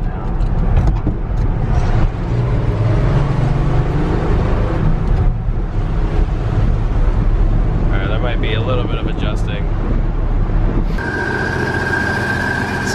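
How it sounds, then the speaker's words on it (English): A 1965 Ford F100 pickup running with a worn clutch throwout bearing, heard as a loud, steady engine and drivetrain drone with wind buffeting the microphone and a faint whining tone partway through. "That sounds like throwout bearing."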